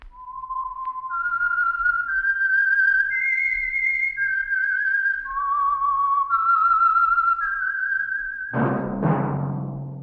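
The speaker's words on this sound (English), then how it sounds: "That whistle is your signal for the Signal Oil program" A clear, melodic whistled tune of sustained notes rising and falling, the theme of old radio drama The Whistler, followed by a sudden brassy orchestral chord at the end.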